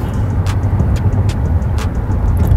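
Steady low road rumble inside a moving car as it passes a truck on the road, with a faint regular ticking like a turn signal clicking over the drone.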